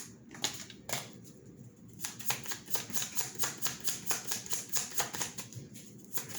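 Tarot cards being shuffled up close, a rapid, even run of crisp clicking flutters that repeats in steady bursts and then slows near the end.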